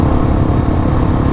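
Husqvarna 701 Enduro motorcycle with a roughly 690 cc single-cylinder engine running, a loud, steady close-up rumble with a throbbing low pulse and no talking.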